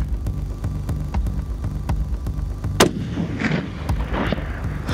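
A hunting rifle fires one sharp, loud shot outdoors that trails into a rolling echo, over a steady low mechanical throb.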